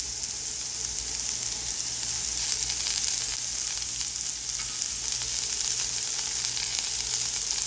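Pointed gourd (potol) slices frying in a pan, giving a steady, dense sizzle that holds even and fairly loud from start to finish with no voices over it.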